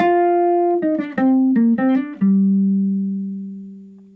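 A single-note guitar line over a jazz standard, about five picked notes in a quick phrase, then a final note left to ring and slowly fade, played alone and close.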